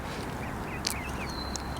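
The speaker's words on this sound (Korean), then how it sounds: "드디어 어미새를 따라서 새끼 새들이 유유히 헤엄치고 있습니다." Ducklings peep in short thin calls and a mallard hen gives a brief quack while they swim on a park pond in Vancouver's Green Timbers. Steady low background rumble runs throughout, and the calls are light and close.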